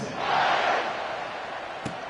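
A football stadium crowd roars at the kickoff of a Colorado vs Texas game, a broad swelling cheer that peaks early and then settles into a steady crowd murmur.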